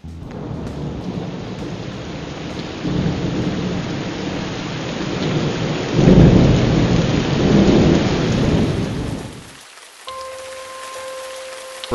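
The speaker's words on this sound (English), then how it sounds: "Rain is our worst enemy out here." Heavy rain pours steadily on an oil-drilling lease while deep thunder rolls through, swelling loudest midway before the downpour eases and fades near the end.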